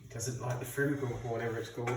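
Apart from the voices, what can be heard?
None of the usual background noises is heard.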